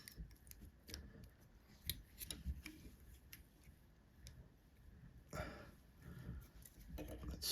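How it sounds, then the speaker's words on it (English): Small fly-tying scissors snip hackle fibers off the top of an Early Black Stonefly nymph held in a vise. The crisp little clips come close and quiet, scattered irregularly over soft background hiss. "I'm going to clip off all the hackle fibers on top and eventually on underneath."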